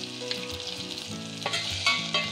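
Chopped tomatoes with curry leaves frying in a pan for pumpkin soup, a steady close sizzle with a few scrapes and clinks of stirring, no voices.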